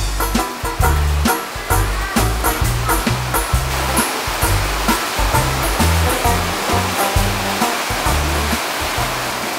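Heavy rain pours in a steady, dense hiss at a riverside noodle shop by the Tha Chin River, punctuated by low, irregular thumps close by.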